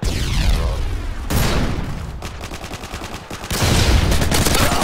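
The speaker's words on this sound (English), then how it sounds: "Predator missile inbound." A Predator missile strike lands in Modern Warfare 2 on Sub Base, loud booming blasts and rapid gunfire bursts breaking into a dense, roaring explosion near the end, with no talking.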